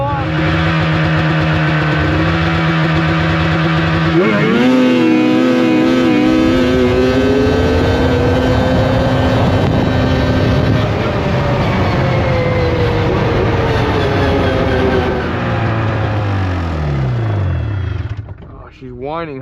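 A Ski-Doo-style F7 snowmobile drag racing on snow at Snow Ridge gives a loud, close engine whine that climbs sharply in pitch, holds at high revs, then falls away near the end.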